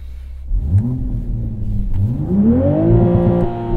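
A 2023 Toyota Supra with a manual gearbox revs hard after a quiet idle, its engine note climbing in two strong rising sweeps up to the rev limiter, loud and close with no talking.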